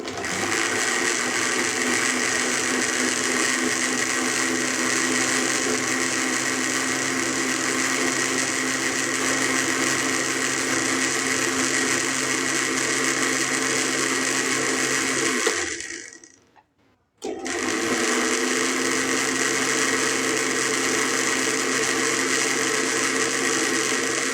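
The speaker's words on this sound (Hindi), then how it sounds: "इसको जूसर ब्लेंडर के अंदर ब्लेंड कर लेंगे।" A juicer blender blending tamarind and plum pulp runs loudly and steadily for a long stretch, cuts out briefly, then starts again with the same grinding whir.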